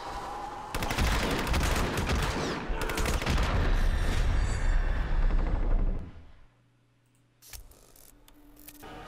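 Dense, loud gunfire bursts, including 12-gauge shotgun blasts, in the Hitman Absolution video game, filling the first six seconds before dropping away to near quiet with a few faint clicks.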